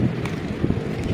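Strong wind blows by the sea at high tide at a park, a rough low rumble buffeting the microphone throughout with no speech.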